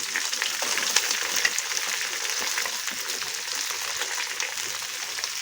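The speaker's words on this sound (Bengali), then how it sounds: "এবার আমরা এক এক করে রসুন কোচা, পেঁয়াজ" Chopped garlic and onion sizzle steadily in hot oil with dried chillies and cumin, a constant close crackle with occasional sharper pops.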